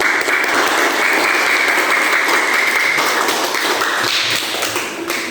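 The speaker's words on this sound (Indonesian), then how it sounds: "berikan aplaus dulu" A classroom audience claps in a dense, steady burst of applause that carries loud and continuous for about five seconds before thinning slightly near the end.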